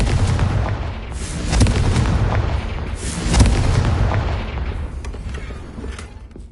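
A Confringo fire spell in Hogwarts Legacy goes off with loud, rumbling blasts: two heavy booms swell and roll away, the second trailing into a long fading rumble.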